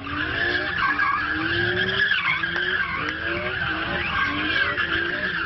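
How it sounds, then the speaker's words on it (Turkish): White car drifting at top speed in circles around a couple during a wedding convoy, throwing up dust, with continuous loud tire squeal and engine roar. "Otomobil son süratle tozu dumana katarak çiftin etrafında drift atıyor."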